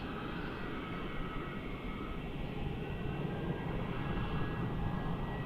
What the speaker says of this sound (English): Jetstar flight 772 heading off to Adelaide.